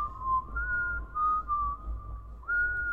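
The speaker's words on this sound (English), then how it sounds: "He's whistling." A character whistles a wavering tune in the video game Chasing Static, a clear melodic whistle held in short phrases with brief breaks, close and fairly loud over a low background rumble.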